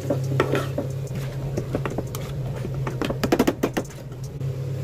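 A spoon clatters and scrapes in a pan as Bombay duck fish is stirred in with spices, with a series of sharp metallic knocks and scrapes over a low steady hum, close by, with no talking.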